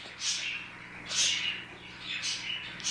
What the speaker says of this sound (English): Noise of the birds.